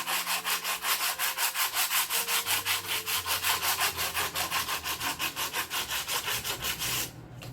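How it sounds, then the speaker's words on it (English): Sandpaper rubbed over a wooden porch sign in quick, even back-and-forth strokes, a close rhythmic rasping that runs steadily and then stops. "I'm just going to go over it with the sandpaper."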